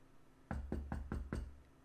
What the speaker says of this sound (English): A knock rapped on his door.